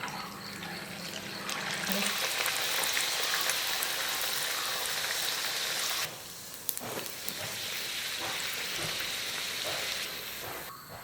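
Puris deep-frying in hot oil give a steady, fairly loud bubbling sizzle that runs for most of the stretch, briefly thinning about halfway through and then returning to a continuous crackle.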